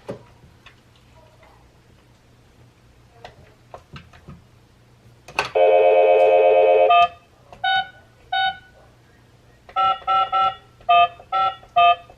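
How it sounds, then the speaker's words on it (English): Telephone number dialed on a keypad: a long tone burst, then a run of short, distinct electronic beeps in quick succession, loud and close over faint background ticking. "I need to dial this number."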